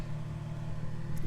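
An Infiniti G35 fitted with new side splitters drives by outside, its low steady engine drone holding level for a moment at moderate distance, with no change in pitch.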